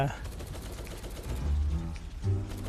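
Rapid gunfire in the Roblox game War Tycoon, a dense rattling volley of shots running throughout at moderate loudness, mixed with other game noise.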